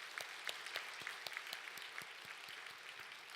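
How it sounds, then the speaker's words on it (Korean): A church congregation claps in a sustained round of applause, the claps brisk and fairly even, heard a little distant in a large room with no voices over it. "한번 박수 한번 쳐주세요. 영광의 박수."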